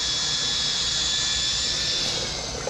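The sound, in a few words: pump pumping oil out of buggy oil coolers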